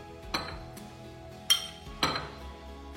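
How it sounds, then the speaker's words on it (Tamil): Mahalikizhangu pickle is moved into a small bowl, with three sharp clinks of a metal spoon against dishware spaced through a quiet room, each ringing briefly before fading. "இது ரொம்ப அகலமாக இருக்கு, அதனால சின்ன பவுலில் மாற்றிக்கலாம்."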